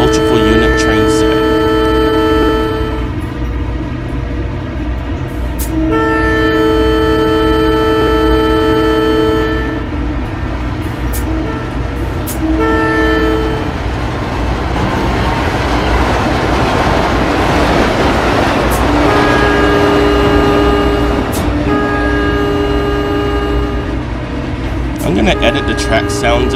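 A GE-built SEPTA Silverliner IV electric multiple unit in Trainz 2019 rolls along with a steady electric motor drone and loud rumbling track noise, tonal whine rising and falling, with brief horn-like toots.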